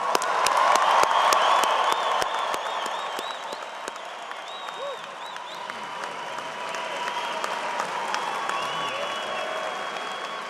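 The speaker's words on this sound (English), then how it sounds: "Now let's all give the class of 2023 a round of applause." Commencement crowd applauding the College of Engineering class of 2023, a broad sustained wave of clapping with scattered whoops and cheers in a large hall, loudest at the start and gently easing off.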